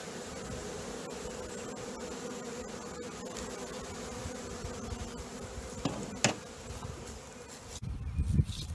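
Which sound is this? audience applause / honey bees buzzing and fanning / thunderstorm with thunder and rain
honey bees buzzing and fanning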